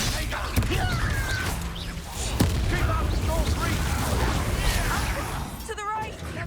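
Explosive fire spells go off in the Hogwarts Legacy video game, two sharp booming bursts among game sounds and faint chatter, followed by more action noise.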